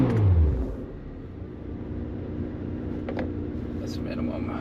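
A Chevrolet Corvette C8 Z06 with its catalytic converters deleted gives one quick engine rev at the minimum valve setting, heard from inside the car. The roar peaks at the start and falls away, then settles into a low, steady idle rumble.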